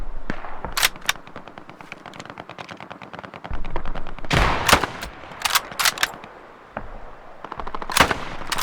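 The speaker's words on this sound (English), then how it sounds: "Shots in front of me here somewhere." Gunfire in the World War II shooter Hell Let Loose, rapid machine-gun bursts and single rifle shots, some loud and near, others farther off, crackling in uneven volleys.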